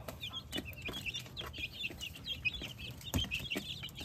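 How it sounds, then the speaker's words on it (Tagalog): A flock of 24-day-old free-range parent stock chickens clucking and chirping continuously in their coop, many overlapping soft calls with occasional thumps and scuffles nearby. "Pero tingnan nyo po yung ating mga manok."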